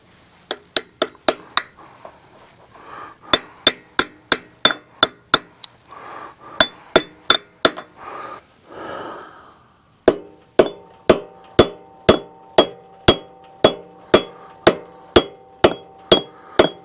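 Hammer taps a wheel bearing cap onto a Dresser track loader hub, a long run of sharp, evenly spaced metallic knocks, close and loud, with a brief pause partway and a steady second series of strikes.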